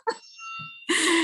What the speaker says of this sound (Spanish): se cuela el sonido de las campanas, perdonad, es lo que tiene vivir de cerca de una iglesia